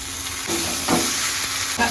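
Vegetables sizzle steadily in a pan while poppy seed paste goes in for Bengali shukto, a few louder stirring scrapes and splutters rising over the continuous frying hiss.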